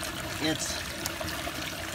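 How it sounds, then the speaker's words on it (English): Water from a koi pond falls through a gutter into a waterfall outdoors, a steady rushing trickle heard throughout while a person speaks briefly over it. "the water's not falling out of the pond but it's falling into the gutter, and then the gutter goes into the waterfall"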